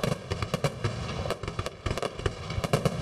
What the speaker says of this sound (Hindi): पाकिस्तान में नए साल का शानदार आतिशबाजी से इस्तकबाल